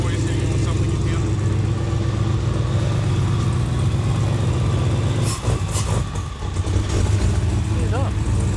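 A turbocharged 1UZ engine in an HQ Kingswood ute runs steadily at a loud, close idle in a smoky enclosed space, with a brief dip and recovery near the end and voices talking over it.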